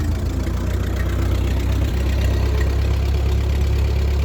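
A 1948 Ford 8N tractor engine idling after starting, a steady low mechanical chug with even rhythmic pulsing that stays close and constant throughout, no voices.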